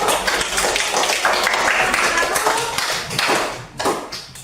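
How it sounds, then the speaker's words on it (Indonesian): Audience claps for a presenter during a coaching session on academic supervision, a fairly loud, uneven burst of hand claps that thins out toward the end. "Tepuk tangan kepada Tria itu."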